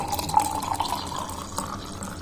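Water pours into a glass or jug while cashew lemon juice is being made, a continuous close splashing trickle with a steady filling sound throughout.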